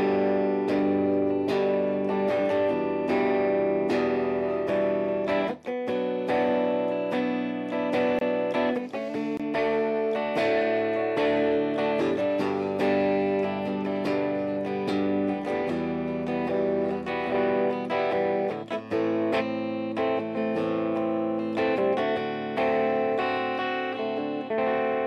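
Electric guitar played through a VOX amp dialed to vintage-style settings, loud and continuous with strummed chords and picked notes, a slightly driven, chorused tone with reverb, and no talking.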